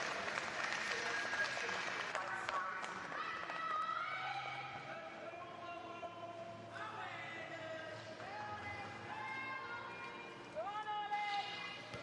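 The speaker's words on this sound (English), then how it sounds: "Give him a round of applause as he completes his third heat of the men's 1500 freestyle" Spectators applauding a swimmer finishing a men's 1500 freestyle heat at a national swimming championship, a soft crowd clapping under continuous lively commentary.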